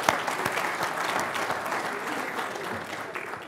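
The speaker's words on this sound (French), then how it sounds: "ça mérite d'être applaudi et d'être félicité." A conference audience at a gathering on sustainable mobility applauds steadily: a continuous wash of clapping, moderately loud, holding through the whole stretch with a few sharper individual claps standing out.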